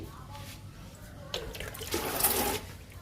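Liquid poured onto an indoor plant's soil makes a gentle, close splashing trickle that swells midway, with a faint voice in the background.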